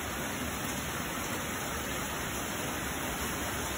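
Heavy pouring rain falls steadily and evenly across the whole stretch, a dense unbroken hiss in an outdoor residential golf-course community, with no voices or other sounds breaking through.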